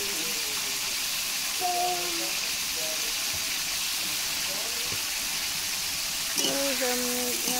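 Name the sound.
chicken meat frying in oil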